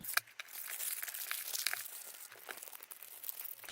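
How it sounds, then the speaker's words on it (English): A homemade chocolate bar with cocoa nibs is wrapped in foil, giving close, crisp crinkling and crumpling bursts that come and go in quick clusters, with no talk. "it doesn't quite look like a chocolate bar until it's wrapped"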